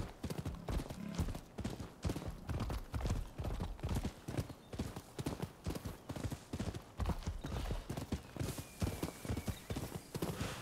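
Horse hooves clip-clop in a fast, steady rhythm of close, crisp strikes throughout a galloping ride in the samurai action game Rise of the Ronin, with no talk.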